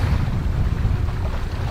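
Sailboat moving at sea in light wind of about 8-9 knots with only small waves, heard as a steady low rushing of wind and water with a constant buffeting murmur, no voices.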